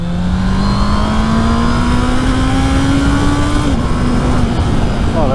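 Honda CB650R four-cylinder motorcycle, a 2024 A2 model with E-Clutch, revs steadily with a rising engine note that briefly dips and climbs again, loud and close amid road noise.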